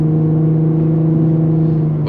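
An Infiniti G35 exhaust with a muffler delete and a Vibrant resonator drones loudly and steadily at close range from inside the car, a constant low tonal hum with a slight rise at the end.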